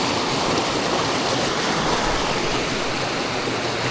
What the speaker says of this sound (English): It's very fast running water right here